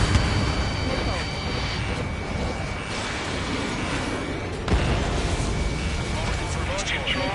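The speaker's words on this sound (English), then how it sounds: "Missile away." An in-flight missile launch and explosion in the Ace Combat video game: dense, continuous roaring rumble with a sharp blast near the middle, under game music and radio-style voice chatter.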